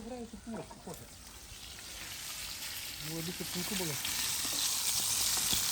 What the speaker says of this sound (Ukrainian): смажується салко